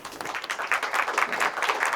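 An audience applauds after a presentation, a brief burst of many hands clapping at an even, steady level throughout.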